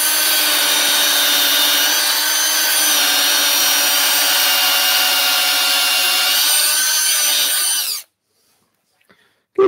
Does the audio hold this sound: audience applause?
no